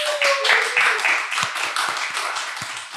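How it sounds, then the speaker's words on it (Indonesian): Brief clapping from a small group of a few people, including crew, close and fairly light with distinct individual claps over about three seconds. "Boleh dong tepuk tangannya guys"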